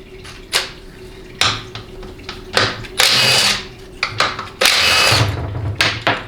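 A power tool, likely an impact driver, undoes the 13mm bolts on a 4L80E transmission's parking pawl guide plate, giving loud whirring bursts with clicks and metal clanks in between, near and without talk.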